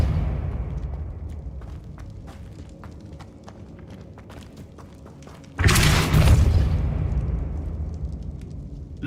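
A Repulsor spell from Hogwarts Legacy erupts as a sudden, loud broadband blast that swells and holds for a few seconds, following a stretch of quieter ambient rumble and scattered clicks.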